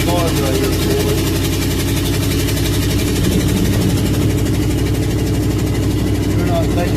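A mid-sized engine with a faulty carburetor idles steadily and loudly close by, its uneven throbbing rumble continuous throughout with no voices.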